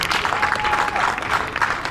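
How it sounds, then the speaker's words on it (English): Audience applause for a bowls shot at the BSA Men's Open 2026 finals: a steady, dense wash of clapping from a crowd, held evenly throughout with no pause. "Deserves the applause he got for that shot."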